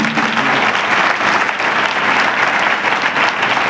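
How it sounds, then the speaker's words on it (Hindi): Loud, sustained applause from a church congregation during a Hindi Christian sermon, dense continuous clapping filling the space from start to finish with no pauses. "तालियां कस के रहना चाहिए।"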